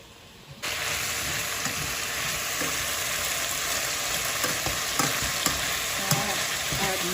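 Lamb stew browning with paprika in a pot sizzles steadily and loudly after a quiet start, with occasional scraping clicks from stirring throughout.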